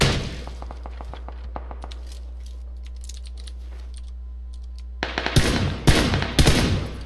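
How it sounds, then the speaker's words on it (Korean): Gunfire in a PUBG battle royale match, a run of sharp shots early on, then a quiet stretch over a low steady hum, followed by a few louder, closer cracks near the end with no voices. "어, 딴 데서 쏜다."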